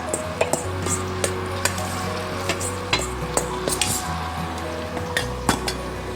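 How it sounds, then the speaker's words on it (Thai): Marinated pork sizzles steadily in a little hot oil in a pan, with frequent clinks and scrapes of a utensil stirring against the pan. "นำหมูที่หมักไปทอดค่ะ"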